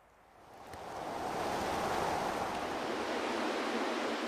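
Game-audio wind ambience blowing through trees, a broad steady rushing noise that swells up over the first second and then holds evenly, with no voices.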